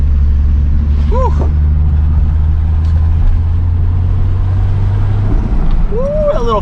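An MK3 VR6 turbo wagon engine runs at a steady idle with a loud, deep droning rumble up close, while brief voices and a whistle-like exclamation break in over it.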